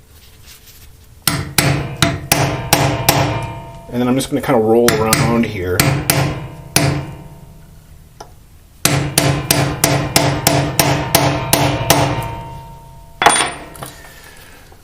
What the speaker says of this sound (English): This whole thing is going to be lifted up slightly because I hammered it.